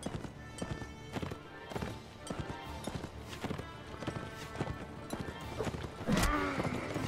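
Cavalry horses in the medieval battle game Mount and Blade: Warband, with loud, steady, rhythmic hoof clip-clops pounding throughout and a brief whinny near the end.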